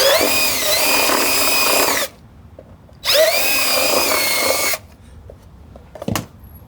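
A power drill enlarging a hole while fitting a rear diffuser to a BMW M140i, running in two loud, steady whirring bursts of about two seconds each, close up, followed by a brief clunk.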